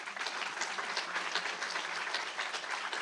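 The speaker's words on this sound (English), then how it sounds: "Please give them a round of applause." A large audience applauds steadily and densely for the whole stretch, many hands clapping together at a lecture event, with no voices standing out.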